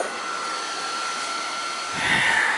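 Fans force air into burn barrels of smouldering yard prickers, making a steady close roar of rushing air that swells louder near the end.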